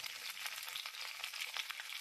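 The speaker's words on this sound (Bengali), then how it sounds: "ভেন্ডিগুলো ছেড়ে একটু ভেজে নেব।" Okra frying in a pan with a little salt gives a close, steady crackling sizzle with dense popping throughout, no voices.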